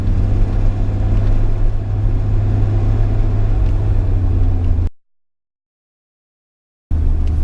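Loud, steady low rumble and droning road noise inside a small car cruising at speed, continuous and close for about five seconds before cutting to silence, then resuming briefly at the end.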